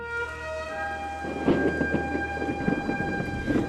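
Thunder rolls at night over San José, Costa Rica, as low, distant rumbles building over a steady background hum.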